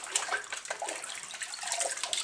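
Cold tap water runs steadily in a kitchen sink, rinsing strawberries held in their plastic colander package, a continuous close splashing hiss with no talk.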